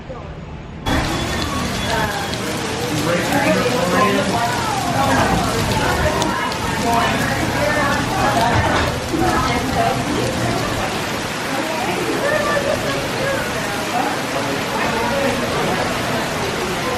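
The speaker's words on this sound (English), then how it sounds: "So it's still raining." Steady rain falls across an EPCOT garden during a Florida downpour, a dense continuous hiss with patter on surfaces and a distant murmur of crowd voices mixed beneath.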